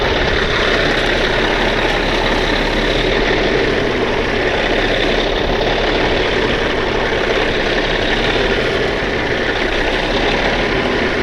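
An 80,000-pound truck stuck in mud, its heavy diesel engine droning loud and steady in gear, a continuous low rumble with no break.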